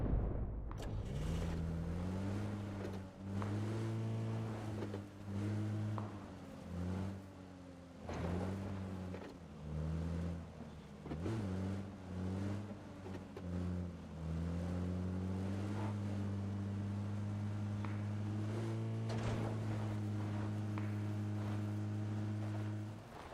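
An armored car driving in the battle royale game PUBG, its engine a loud, close, steady drone that repeatedly rises and falls in pitch with gear shifts, then settles into a sustained hum, with no talking.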